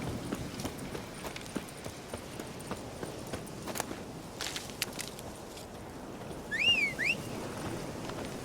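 Hooves of the horse Roach clop steadily across the ground in The Witcher 3, a rapid, even rhythm under outdoor ambience, joined briefly by a short two-note whistle midway.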